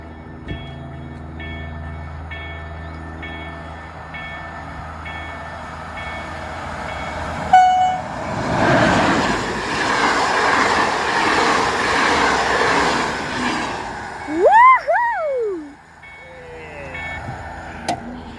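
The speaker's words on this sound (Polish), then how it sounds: "Ale jedzie! Ale pędzi ten, ale pędzi Intercity." Intercity passenger train speeding past a railway crossing near Wrocław, Poland, a loud rushing roar of wheels and wind swelling up close, followed by two sharp horn blasts, with crossing bells ticking before and a person talking.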